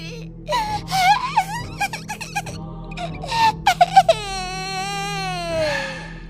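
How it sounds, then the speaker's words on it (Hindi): A small child cries and wails in a horror cartoon, with rising and falling sobbing bursts and a long drawn-out high wail at the end, loud and close over a low ambient drone. "अब ये बच्चे की रोने की आवाज कहाँ से आ रही है?"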